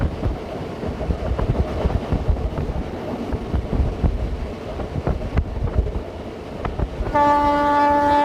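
Passenger train 04247 on the Raebareli route rumbles steadily along the track with rhythmic wheel clatter and wind noise, and near the end a sustained horn tone sounds loudly.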